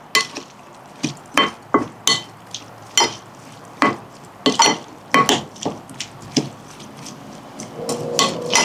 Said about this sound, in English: I'm gonna mix it even more.